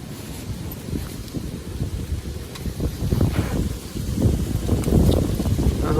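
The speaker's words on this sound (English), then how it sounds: "I hope that wind isn't too bad." Wind gusts buffet the microphone outdoors on a camping weekend, a steady low rumble that swells louder toward the end, with no one talking.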